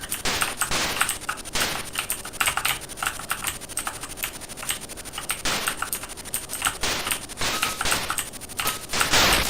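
Keys tapped rapidly on a Sinclair ZX Spectrum keyboard during the Licence to Kill game, dense continuous clicking over loud, busy game sound effects.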